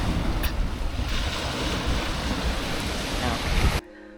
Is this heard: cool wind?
yes